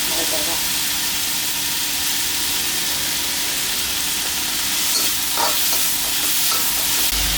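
Continuous loud sizzling and hiss of stir-frying in a wok, onions tossed with fermented pork sausage, with faint scraping strokes rising near the end, steady and close throughout.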